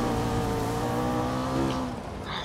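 A car engine in the racing game Need for Speed Rivals holds a close, sustained revving drone that thins out and fades near the end.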